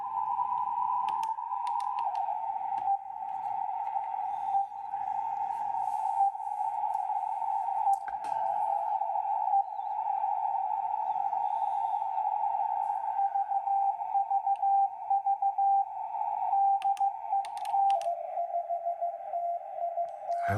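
A steady, continuous beat-frequency oscillator tone rings from a Rohde & Schwarz shortwave receiver, holding a single pitch for about twenty seconds with slight shifts in pitch, under faint background static.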